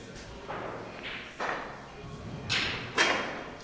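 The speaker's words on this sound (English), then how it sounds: "And Sean just fired at his hole, pocketed a ball." A one-pocket billiards match: a cue strikes a pool ball and a ball drops into a pocket. Several sharp clacks and thuds come a second or so apart at close range over quiet room ambience.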